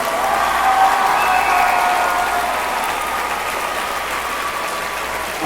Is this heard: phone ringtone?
no